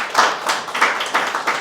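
Members of the media clap their hands at an announcement event, a short burst of several claps in uneven bunches, close and moderately loud.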